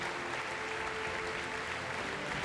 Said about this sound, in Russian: Под эти бурные аплодисменты мы просим вас вернуться в зал